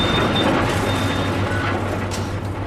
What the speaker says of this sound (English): that's the sound of a crushed automobile being shredded into a million pieces